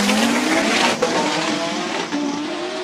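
A Toyota MR2 Super GT hill climb car launches hard off the start line, its engine screaming loudly as it rises through the gears, with a brief tire squeal at the launch.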